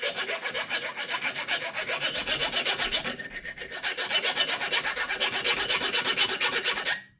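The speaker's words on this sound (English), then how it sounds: "let's take the coarse file and just see if we can work anything off" A coarse hand file rasps steadily across a screw on a multi-tool, stripping its coating in quick, rhythmic back-and-forth strokes that are loud and close, with a brief pause partway through and no voices.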